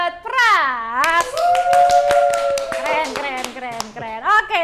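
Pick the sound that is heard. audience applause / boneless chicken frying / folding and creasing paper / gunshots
audience applause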